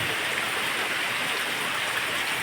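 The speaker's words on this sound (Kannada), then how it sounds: "ಮಳೆ ಬರಲಿಕ್ಕೆ ಶುರುವಾಯಿತು." Steady rain keeps up a dense, even hiss at a rural spot with cattle, with no pauses or louder surges through the whole stretch.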